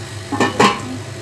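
A lid set onto a cooking pot of vegetable pulao, two quick metallic clanks close by, one after the other, with no talk.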